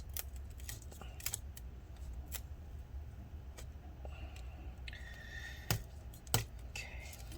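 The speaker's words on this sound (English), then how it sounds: "Now we're going to go under this way and cut this adhesive." Adhesive under the battery of a 13-inch early 2015 MacBook Pro A1502 being cut with a tool, heard as faint scattered clicks and scraping snips over a low steady background hum, with two slightly louder taps near the end.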